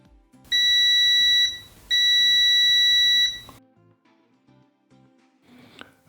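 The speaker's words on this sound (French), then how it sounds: "Si vous entendez le signal sonore, cela indique que le courant passe librement dans le fusible" A continuity tester testing a working fuse gives two steady electronic beeps, each lasting over a second with a short gap between, clear and close, then a faint click and quiet.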